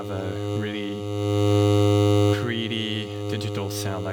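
A digital synthesizer oscillator with hard sync plays a bright, buzzy tone rich in harmonics. A sustained low drone swells in the middle of the passage, and a short sweeping, gliding timbre follows it. No voice is heard.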